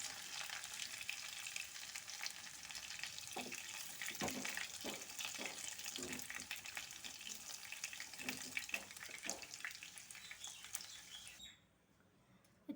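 Potatoes fry in hot oil in a pan, giving a steady sizzling hiss with scattered crackles and pops throughout before the sound cuts away near the end.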